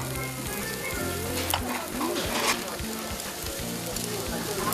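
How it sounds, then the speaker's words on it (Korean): Dry-aged beef grills in a busy restaurant at lunchtime, giving a steady, dense sizzle with crackling pops and the occasional clink of tongs or a utensil. Faint voices and background talk sit beneath it. "고기가 노릇노릇 구워질수록"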